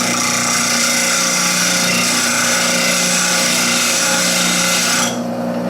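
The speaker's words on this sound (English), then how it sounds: "Take a look and see where my wheel is cutting." A sharpening wheel grinds a woodturning tool blade braced on a tool rest, making a loud continuous whirring grind that stays steady for several seconds and then eases off near the end.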